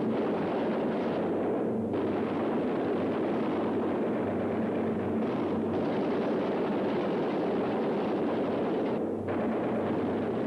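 Anti-aircraft flak and gunfire burst around a damaged World War II B-17 Flying Fortress bomber with an engine on fire, a dense continuous roar of engine drone and booming explosions filling the whole stretch, loud and close.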